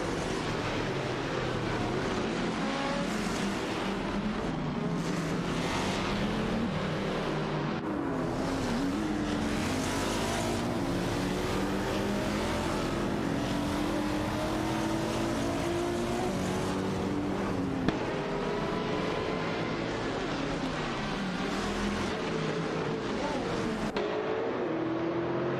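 Racing car engines in an AI racing video game roar continuously, with overlapping cars whining through rising and falling gear pitches throughout.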